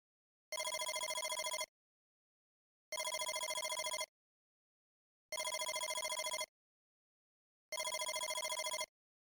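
A telephone rings in a horror video game, four evenly spaced electronic ring bursts of about a second each, separated by silence, clear and isolated.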